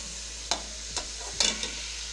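Boneless chicken frying with ginger garlic paste, a soft steady sizzle under a few distinct scraping stirs of the spoon in the pan, close up and without speech.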